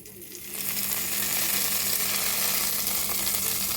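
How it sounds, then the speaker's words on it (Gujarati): Hot tempering of chilli, curry leaves and hing is poured over chutney, erupting into a loud, sustained sizzle that swells within the first half-second and holds steady to the end. "હવે આ તૈયાર થયેલા વઘારને ચટણી ઉપર રેડી દેવાનો"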